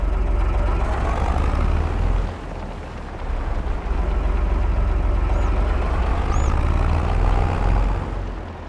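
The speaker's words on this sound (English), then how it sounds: "I hear my tractor." A tractor engine in Farming Simulator 22 drones on at a steady loud level, a broad rumbling hum with one brief dip partway through and no voices over it.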